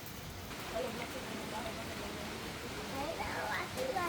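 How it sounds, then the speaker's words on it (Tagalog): Rain falling steadily on a rural Philippine hut, a constant close patter and hiss running through the whole stretch, with people talking over it. "It's raining."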